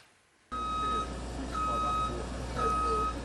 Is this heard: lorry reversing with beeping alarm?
yes